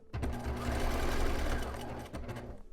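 A sewing machine stitches down the ear-loop channel along the side of a fitted DIY cloth face mask, running in one steady continuous burst of close, loud mechanical whirring with a brief dip near the end.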